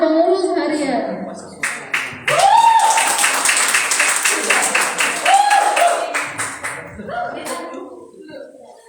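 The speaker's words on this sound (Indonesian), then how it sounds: "beri tepuk tangan yang meriah rekan dan rekan kita sekalian untuk Badan Pengurus Harian" Audience applause at a board installation ceremony, bursts of clapping rising and fading across the span, mixed with voices and cheering over a loud hall.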